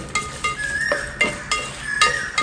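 Dried red chillies and spices crackle in hot oil for temple-style puliyodharai (tamarind rice). A close, bright sizzle is broken by rhythmic scrapes and clinks of a spoon stirring the pan every half second or so.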